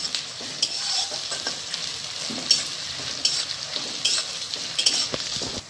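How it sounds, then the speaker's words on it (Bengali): Chopped onions fry in hot oil for a chicken kosha, a steady broadband sizzle with occasional stirring scrapes and clinks near the pan, no voices. "এবারে আমি তেলের মধ্যে দিয়ে দেবো। আমি পেঁয়াজটাকে হালকা লাল করে ভেজে নেব।"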